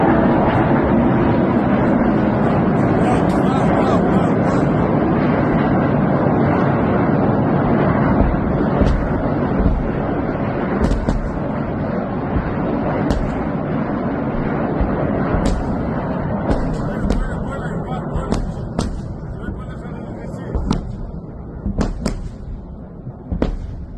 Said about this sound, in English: here we have some video footage showing the Israeli Iron Dome air defense system intercepting all of these rockets